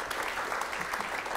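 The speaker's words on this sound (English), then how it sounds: "Give yourselves a round of applause." Audience applause at an improv comedy show, a dense, steady burst of clapping filling the room briefly, close and moderately loud.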